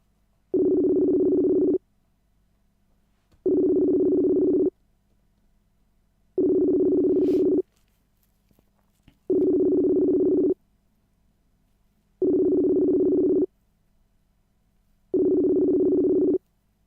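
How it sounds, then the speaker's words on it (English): A phone call's ringing tone repeats six times in steady, evenly spaced buzzing pulses with silent gaps between, while a group call waits for people to pick up; no voices. "It's ringing 8 people right now,"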